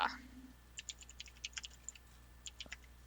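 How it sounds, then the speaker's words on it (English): Typing on a computer keyboard, a steady patter of light key clicks in irregular bursts, close and fairly quiet, with a brief sound at the start and no talk. "I hear you typing."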